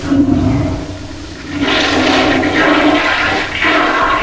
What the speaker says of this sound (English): Toilet works.